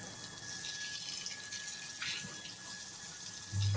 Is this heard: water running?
yes